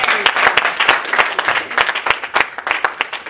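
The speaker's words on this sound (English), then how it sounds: "Let's give the Lord a hand clap of praise." A church congregation claps in praise, a brisk, loud burst of many hands close by with no talk over it.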